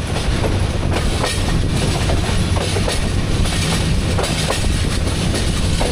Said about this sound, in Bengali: আমরা যাত্রা করছি ট্রেনের মাধ্যমে।